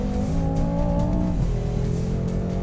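A 2017 HSV GTSR W1 screams around a race track, its engine droning steadily loud and close, pitch climbing then dipping at a gear change, with no voices over it.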